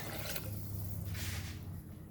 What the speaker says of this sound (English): Now we will add water to this, high flame.